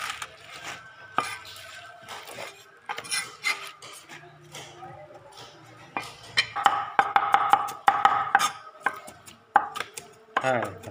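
A knife chops fresh vegetables just picked from a home garden. Sharp, irregular cuts knock against a board close up, with clusters of rapid strokes and a few louder clacks.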